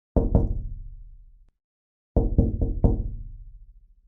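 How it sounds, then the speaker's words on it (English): Two bursts of hard knocking on a window, first a pair of raps, then after a pause a quicker cluster of four, each strike ringing briefly and decaying, close and loud in an otherwise silent space. "suddenly I heard a knock on the window"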